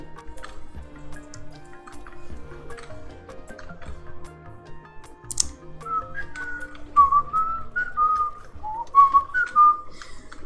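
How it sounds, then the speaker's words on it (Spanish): A person whistles a wandering tune close to the microphone during a game session, the clear melodic notes growing louder in the second half over soft ticking and dripping game sounds. "perdón por chiflar, se me va por ratos que estoy junto a un micrófono"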